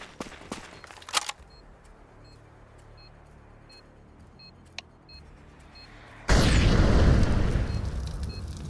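A planted bomb in Counter-Strike 2 goes off: a few sharp clicks and faint repeating beeps over a quiet hum, then a sudden loud, roaring blast that rumbles on for several seconds.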